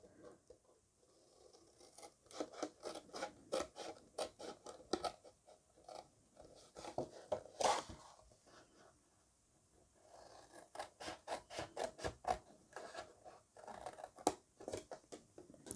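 Scissors snip through paper while a sparkling-wine bottle package for a piccolo is cut out, with bursts of quick close crisp snips separated by short pauses and a brief sharp scrape midway.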